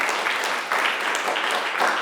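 An audience at a policy conference applauds the production and events team, a dense, steady burst of many hands clapping together, loud and sustained throughout with no speech over it.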